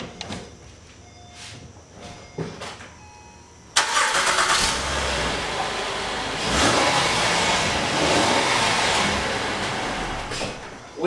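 A 2011 Acura TL engine, just fitted with a new alternator, cranks over and catches, then settles into a steady running rumble with a brief rev, close by, after some faint clicks and rattles.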